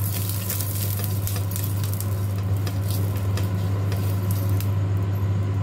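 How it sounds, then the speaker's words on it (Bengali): Oil sizzling steadily in a hot frying pan for chillah, a continuous crackling hiss with a low hum underneath and no talking. "এইবারে আমি ভাজতে শুরু করব।"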